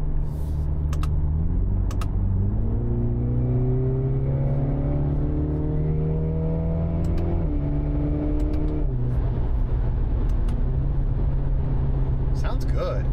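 A 2024 Mini Cooper Clubman JCW with a Dinan exhaust in sport mode, the engine revving and downshifting as it drives, its throaty note rising and falling in pitch, with a voice talking over it throughout.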